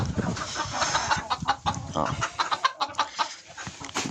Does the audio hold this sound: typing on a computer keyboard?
no